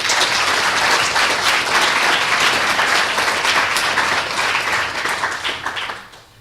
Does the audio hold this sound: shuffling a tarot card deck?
no